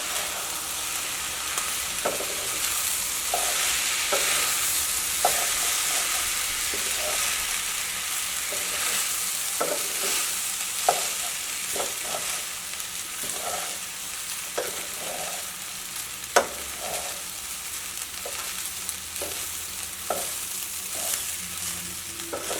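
Vegetable fried rice with ten mixed vegetables is stirred in a frying pan. A steady sizzle runs throughout, broken by irregular clicks and scrapes of the spatula against the pan, close-up and with no voices.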